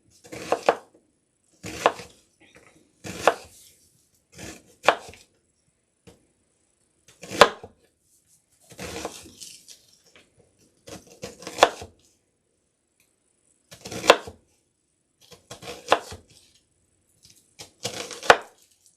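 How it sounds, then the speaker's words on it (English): An onion chopped with a knife on a cutting board while summer squash and onions are prepared: a steady series of crisp, close blade strikes in short bursts with brief pauses, and no talking. "that has kept me from having the waterworks while I'm cutting up an onion"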